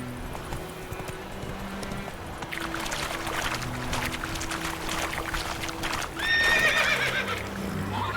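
A horse in The Witcher 3 neighs sharply near the end over a bed of clip-clopping hooves and ambient game sound, with a faint low background tone throughout.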